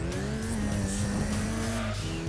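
An Evo VI RS race car in Gran Turismo 2 brakes hard into the corkscrew, with loud, continuous tire squeal and skidding over a droning engine.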